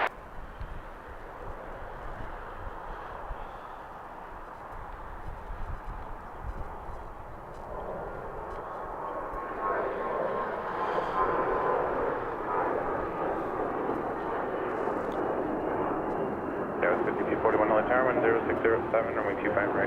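A jet taking off from runway 25 right at LAX, a steady broadband engine roar that swells in the second half and grows louder toward the end, with air-traffic radio chatter underneath.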